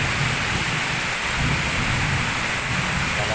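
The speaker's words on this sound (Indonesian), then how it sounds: "Petir ya Allah." Heavy rain pours steadily during a thunderstorm with strong wind in Bogor, with a dense wash of rainfall and low rumbling thunder rolling underneath, continuous and fairly loud.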